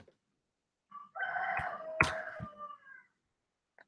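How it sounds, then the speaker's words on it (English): A rooster crows once, fairly close and clear, a drawn-out call of about two seconds set against near silence, with a few soft clucks and knocks around it. "I'm sure you guys can hear a chicken."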